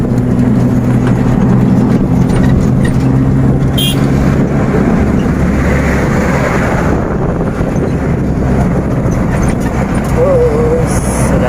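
Inside a moving vegetable truck on a rural road to a coffee farm, a steady engine rumble mixes with heavy wind buffeting and road noise, loud and unbroken from start to end.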